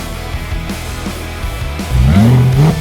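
A BMW E92 M3 idles steadily, then its engine is revved hard, a loud rising roar that climbs and swells near the end, close by with no talking.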